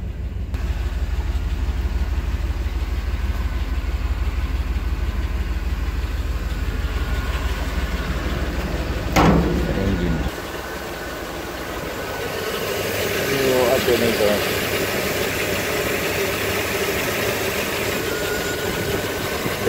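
Chevy 5.7 liter 350 V8 idling in a 1987 Itasca motorhome, a steady low rumble that runs throughout, with a brief sharp clatter partway through followed by shifting mechanical noise.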